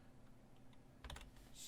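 A quick burst of keystrokes on a computer keyboard, close and fairly quiet, clustered in the second half after a near-silent start, with no voices.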